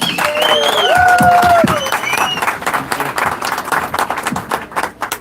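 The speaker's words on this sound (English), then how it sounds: "Please, some claps for Josh" Audience clapping at a Saturday evening closing ceremony, with tonal whistles or cheers over the applause at first, then the clapping continues steadily and thins toward the end.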